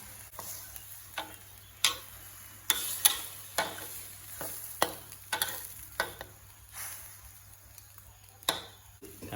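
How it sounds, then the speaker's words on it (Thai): Climbing perch fish being stir-fried with red curry paste in a pan, irregular scraping and clacking stir strokes over a faint background sizzle, no talk. "ผัดปลาหมอเข้ากับพริกแกงครับ"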